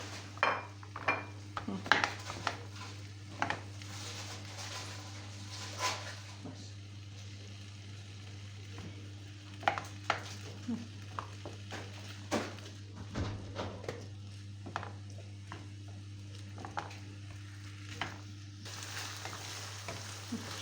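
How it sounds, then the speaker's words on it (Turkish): Half a kilo of ground beef frying in two to three tablespoons of oil in a pan, a faint steady sizzle under a low hum, broken by sharp clinks and scrapes of a utensil against the pan. "Kıymamız önce bir güzel kavrulsun."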